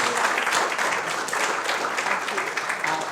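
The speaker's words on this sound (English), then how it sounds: "Please, a big round of applause for our panelists." An audience applauds the panelists at a city mental health panel event, a steady dense wash of many hands clapping without pause for about three seconds.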